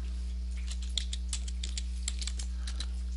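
Keys on a computer keyboard clatter in a quick, uneven run as a short name is typed, close and clear over a steady low electrical hum, with no talking.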